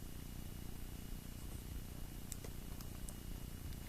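A house cat purrs steadily and close, a soft continuous rumbling drone with faint rhythmic pulsing, alone in a quiet indoor room.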